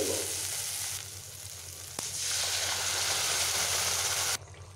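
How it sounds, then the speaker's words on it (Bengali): Spice masala sizzling in a pan with onions and tomatoes for a ridge gourd dish, a steady close frying hiss that swells louder after a brief clatter of stirring, then cuts off abruptly near the end. "এবার আমি মশলাগুলোকে একটু ভালোভাবে এইভাবে ভেজে নেব।"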